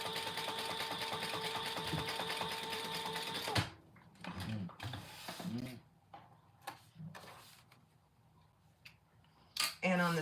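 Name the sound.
sewing machine stitching a seam on a clutch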